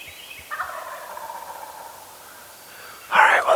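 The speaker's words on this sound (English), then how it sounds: "We got a bird gobbling down here." A wild turkey tom gobbles on public mountain land in North Carolina. A faint, distant call comes first, then a loud, close, rattling gobble bursts out at the end. No one speaks.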